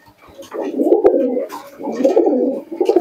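Andhra tournament pigeons coo in steady, overlapping bursts, a close, continuous low murmur of several birds with brief pauses between phrases.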